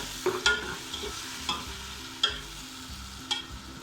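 Minced beef keema and tomatoes sizzling in a pot, with a steady frying hiss and a few sharp spoon-against-metal scrapes as it is stirred, close-up with no voices.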